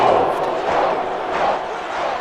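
A football stadium crowd at a Detroit Lions versus Minnesota Vikings game sends up a loud, sustained roar and chanting that swells and dips.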